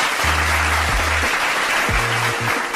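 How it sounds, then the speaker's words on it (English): A podcast audience gives steady, continuous applause that fills the whole stretch, while low tonal sounds briefly cut in over the clapping. "Let's give Coach Clap some claps"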